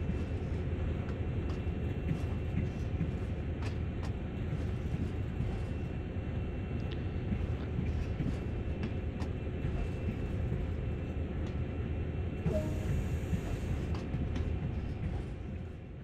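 A train rumbles along steadily in Train Sim World, producing a faint, continuous low hum with scattered light clicks and a brief higher tone near the end.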